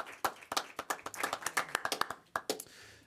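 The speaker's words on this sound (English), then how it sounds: "that deserves a nice round of applause" Scattered hand claps ring out sharply at a city council meeting, a dozen or so quick uneven strikes from a small group, close and clear before trailing off.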